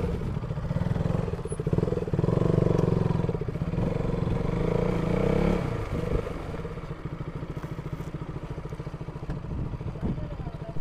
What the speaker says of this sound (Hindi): ये एक ड्यूक 250 आरसी और दो एमटी